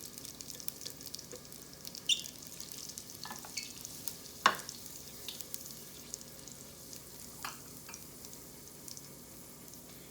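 Cumin seeds dropped into a hot pot crackle faintly with a soft sizzle, scattered small pops and one sharper clink, quiet and close with no talking.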